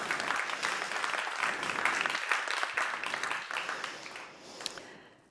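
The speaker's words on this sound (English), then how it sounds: "So a big clap to you all." An audience claps together through a continuous, moderately loud burst of applause that fades out near the end, with a single sharper clap standing out just before it dies away.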